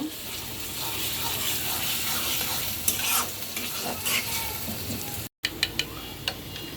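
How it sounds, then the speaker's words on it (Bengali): Ground onion, ginger, garlic and cumin paste fries with shredded potato in a pan. A continuous close sizzle runs under repeated spoon-scraping strokes, then cuts out for a moment and returns with sharper stirring clacks. "আর এখানে পেঁয়াজটা ভাজা হয়ে গেছে।"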